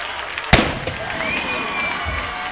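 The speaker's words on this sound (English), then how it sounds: "the cannon goes off" A cannon fires at a high school football game, East Ascension at St Amant, giving one sharp, loud boom that rings out over a cheering crowd and stadium noise.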